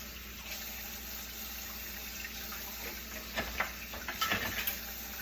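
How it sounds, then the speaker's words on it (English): A fork is rinsed under a running kitchen tap, making a steady close wash of water with a few faint clicks and splashes near the end, and no voices. "I need to wash a fork"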